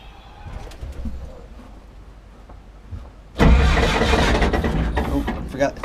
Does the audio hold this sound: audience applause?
no